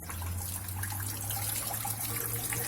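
Water pours steadily into the drum of an LG 7.0 kg inverter washing machine (FHT1207SWW) through a faulty inlet valve, filling even while the machine is off; a continuous close hiss and rush of water runs alone throughout.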